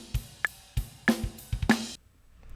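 A drum fill on a studio recording, with a few punchy hits and snare strikes landing in an uneven rhythm, clear and close, ending abruptly into near silence.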